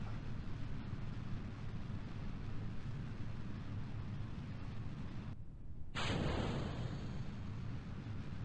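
Rocket engine launch in the video game Kerbal Space Program: a loud, steady roar that runs throughout, briefly cut by a short gap before it surges back even heavier.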